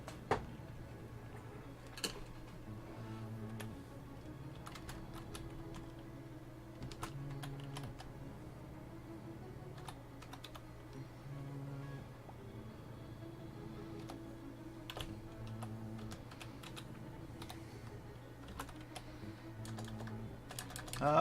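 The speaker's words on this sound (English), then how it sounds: "Typing it in wrong." Computer keyboard typing during a livestream about painting Reaper miniatures, with soft, irregular key clicks in scattered bursts over a low steady hum, quiet and close.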